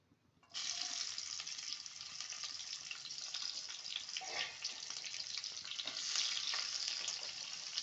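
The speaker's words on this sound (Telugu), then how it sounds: "ఉల్లిపాయ పచ్చిమిరకాయలు వేయాలి కట్ చేసుకున్నవి." Chopped onions and green chillies hit hot oil for stuffed brinjal curry, bursting into a loud, steady sizzle after a brief quiet start and crackling on continuously to the end.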